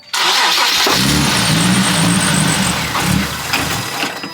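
A Nissan 370Z engine cranks continuously with a loud, rough grinding churn, never catching into a steady idle, then cuts off.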